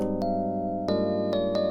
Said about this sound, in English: So I'll play this piano by itself so you can understand what I'm talking about.